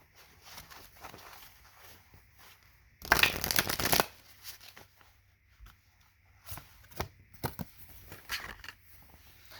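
Tarot cards are shuffled close by in soft, riffling bursts, with one louder, denser shuffle standing out among lighter card handling and quiet rustles, and no talk.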